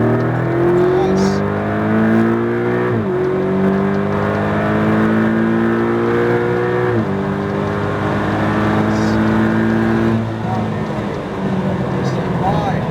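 A car at full throttle on a track accelerates hard, its engine note climbing loud and close, dropping briefly at two gear changes before rising again.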